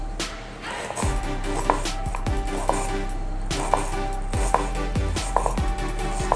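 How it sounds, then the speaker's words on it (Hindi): A knife finely chopping onion on a board in a village kitchen: quick, crisp taps in a steady rhythm, close and clear over a low background hum. "अब मैं प्याज को काट रही हूँ। प्याज को अपन अच्छी तरह बारीक काट लेंगे।"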